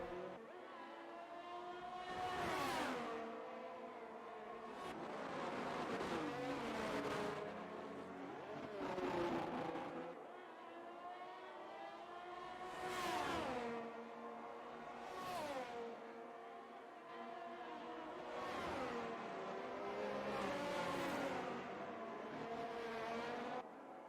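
Race cars in a Formula-style racing game at Emilia Romagna roar past one after another, engines swelling and fading in repeated high-revving passes with gear shifts, with no talk over them.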